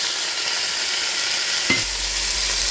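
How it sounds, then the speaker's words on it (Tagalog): Garlic, onion and tomato sauté in a pan, a steady close sizzle with a brief scrape of stirring partway through. "Then, i-mix lang natin siya guys. And then yung kamatis."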